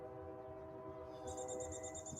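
A faint, steady tone of a train whistle from far off, holding several flat pitches through the clip, with a thin higher whine joining in halfway through.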